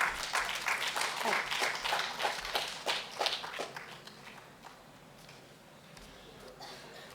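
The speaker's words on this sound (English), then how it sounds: "Please give a round of applause." Audience applause at a food safety conference panel, a few seconds of scattered, moderately close clapping that gradually thins and fades.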